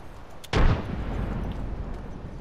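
A grenade goes off in a video game as a single loud, sharp blast, then a rumbling decay trails away over the next two seconds.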